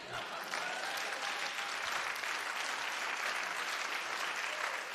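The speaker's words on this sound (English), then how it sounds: "That's an applause line." Steady applause from an audience at a conservative activist's political rally in Minnesota, filling the full five seconds with dense, even clapping at moderate loudness.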